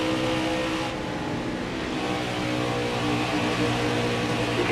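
Racing truck engine in NASCAR Heat 5 video game, a loud steady drone with sustained harmonic tones, continuous and close throughout with no talking.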